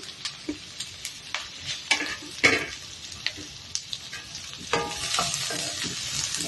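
Onion, green chillies and ginger sizzle in hot coconut oil in a pan for a kaya curry, with a spoon tapping and clinking at a regular beat over a steady frying hiss that swells toward the end.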